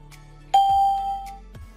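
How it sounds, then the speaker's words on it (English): A short electronic chime from text-to-speech software signals that an audio file has been saved: a single bright ding that rings clearly and fades quickly over quiet background hiss. "You will hear a sound like this when it is saved."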